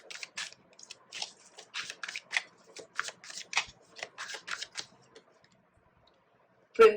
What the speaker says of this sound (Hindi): तो टैरो कार्ड्स निकाले यहाँ पे।